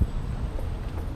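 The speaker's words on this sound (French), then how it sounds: "il y a beaucoup de vent" Strong wind buffets the microphone at a shrine, a steady low rumble that fills the whole moment.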